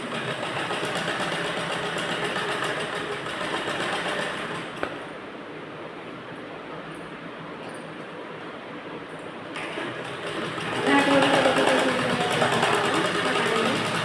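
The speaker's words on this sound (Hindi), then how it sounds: "हमने हाथ से पकड़ के रखा है, फिर आसन देके स्टिच करेंगे" Sewing machine stitching a cord onto blouse fabric, running as a steady mechanical hum throughout, with a brief pause in the middle before it speeds up again near the end.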